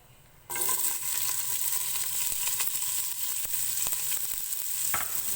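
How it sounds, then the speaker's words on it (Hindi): Two chopped medium onions hit hot oil in a pot for vegetable pulao, starting with a sudden loud sizzle that holds steady and close, broken by scrapes and taps of stirring. "प्याज को गोल्डन ब्राउन होने तक फ्राई करेंगे।"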